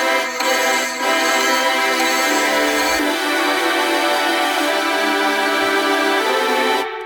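A quanta loop runs through a future bass drop: a dense, bright, continuous synth texture with stuttering rhythmic chops and brief pauses in the low end. It is loud and steady for about seven seconds, with no voices.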